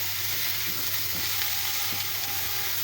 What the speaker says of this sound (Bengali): ভেজে নিচ্ছি ভালো করে